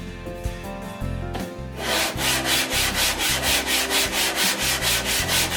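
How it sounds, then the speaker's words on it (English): 120 grit sandpaper is rubbed over the metal of an old Stanley Bailey No. 4 hand plane, loud close rhythmic back-and-forth rasping strokes, about three per second, after a few slower rubs at the start. "This is 120 grit sandpaper. That takes the scratches away from the 60."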